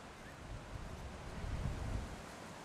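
Steady outdoor wind buffeting the microphone at a lawn bowls green during a mixed pairs final, with broad low rumbling gusts that swell toward the middle and stay fairly constant, with no clear talk.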